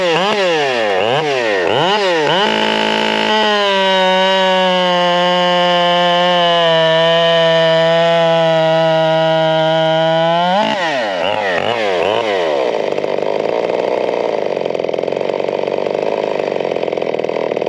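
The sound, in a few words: Husqvarna 572 big bore chainsaw engine running at high idle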